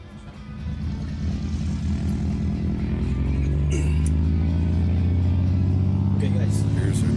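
A light touring STOL airplane takes off at a fly-in, its propeller engine revving up from a low drone to a loud, steady, throbbing roar close by.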